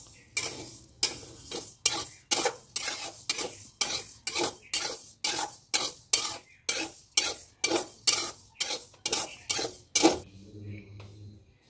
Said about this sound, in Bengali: আগে হচ্ছে মুগ ডালটাকে ভেজে নিচ্ছি